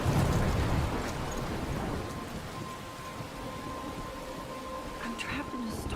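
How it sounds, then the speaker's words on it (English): A rain-and-thunder storm in the video game Life is Strange: a deep rumble of thunder at the start gives way to steady, heavy rain hiss that fills the whole scene. "I'm trapped in a storm?"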